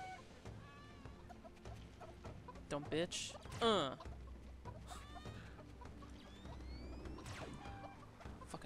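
A chicken in the video game Serious Sam 2 clucks and squawks in a few short bursts, fairly faint, mixed with game noises and someone talking over it.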